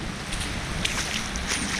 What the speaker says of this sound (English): and this is running water